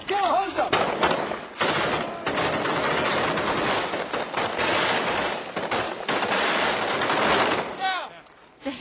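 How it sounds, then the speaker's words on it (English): Heavy M16 rifle fire in Fallujah cracks out in rapid, sustained bursts at close range, loud and dense with almost no gaps, while voices call out faintly beneath the shooting. "The heavy fire keeps the insurgents' heads down."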